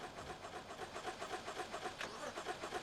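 A car engine in BeamNG.drive cranks repeatedly in a fast, even rhythm without catching, faint and mechanical, with a brief sharper click partway through.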